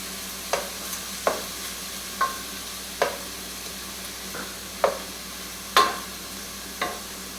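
Onion, garlic and ginger mix cooking over medium heat in a pan, a steady soft sizzle broken by about eight scraping stirs of a utensil at irregular intervals, close and fairly quiet with no voices.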